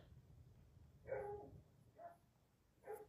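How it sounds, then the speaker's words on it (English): A faint dog barks three times in the distance, spaced about a second apart, over a low steady background hum. "There's a dog barking."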